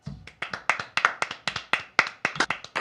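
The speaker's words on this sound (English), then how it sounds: "Clap, Bruce." Hand clapping, a single person's sharp, close claps in a fairly steady rhythm, about a dozen and a half crisp slaps in quick succession with nothing else behind them.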